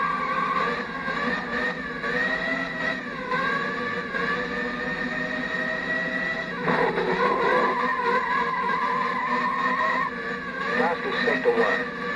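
A Formula One race car engine screams at high revs through a flying qualifying lap, steady whine with gear shifts and rising pitch, a commentator's voice speaking over it.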